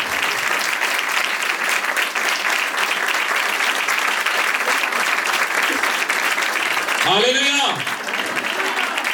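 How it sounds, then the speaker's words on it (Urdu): A church congregation claps for Jesus in sustained, dense applause that fills the room, and a voice calls out briefly near the end. "ہاں یسوع کے لیے بھرپور تالیاں"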